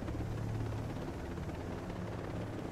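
A helicopter in Ghost Recon Breakpoint drones with a steady, dense rotor and engine rumble throughout, loud and even, with no voices over it.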